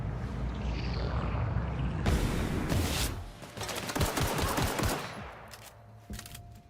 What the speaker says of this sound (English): Does the shotgun just do fuck all damage or something?